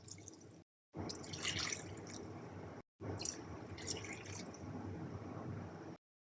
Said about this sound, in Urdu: میں یہاں 3 کپ پانی ایڈ کر رہی ہوں